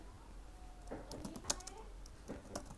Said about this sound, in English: we will type Sentinel